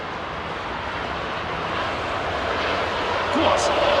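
An Aeromexico airliner's engines spool up for takeoff at Heathrow Airport, a dense continuous roar that grows slightly louder toward the end.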